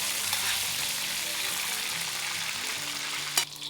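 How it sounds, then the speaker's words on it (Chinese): Pork belly sizzles and crackles in hot oil as it is stir-fried, a dense steady frying hiss with small spatters and a brief scrape near the end, with no voices. "炒到五花肉都变色了，就可以捞出来了"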